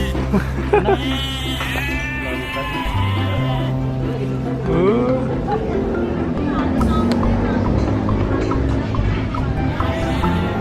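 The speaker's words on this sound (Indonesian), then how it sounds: "Ada kambing." Goat bleats ring out amid people talking and a steady engine hum, with wavering cries rising over the chatter.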